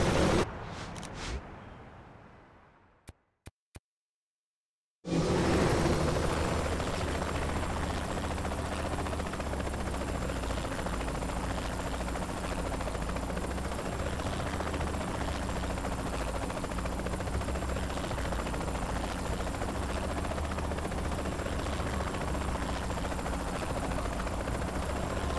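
A helicopter in the video game Saints Row 3 drones steadily with a thick rotor and engine hum after an abrupt start, holding loud and constant for about twenty seconds following a brief silent gap.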